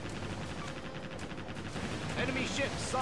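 Naval gunfire in the game Warship Gunner 2 booms in a rapid, dense burst of shots and blasts. It is loud and continuous and has no talking over it.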